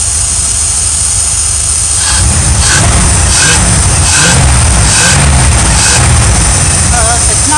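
An RV engine idles fast and races with no load on it, a steady, loud drone with a pulsing low rumble throughout. Faint voices murmur underneath.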